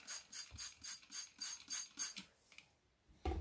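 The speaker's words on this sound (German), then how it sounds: "ich sprühe da immer so ein bisschen Wasser rein" A spray bottle spritzes water into a bowl of powder while calcium paste for Achatina snails is being mixed, about eight quick, evenly spaced hissing bursts close up, then a pause and a soft knock.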